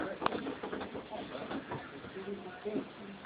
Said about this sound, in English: I'm recording birds fighting.